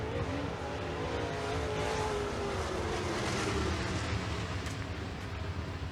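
Dirt late model race cars roar around Lee County Speedway in a Mars Late Model feature, a steady, dense engine drone from a distance that holds for the whole stretch with no talk over it.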